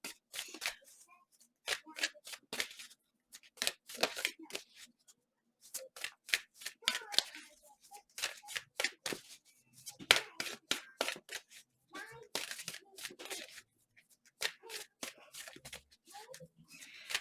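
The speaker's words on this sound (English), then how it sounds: "If you have to watch cards shuffle, at least they're a pretty color." Purple tarot cards are shuffled by hand in repeated bursts of quick, crisp riffling and soft slapping, close and fairly quiet, with pauses between rounds.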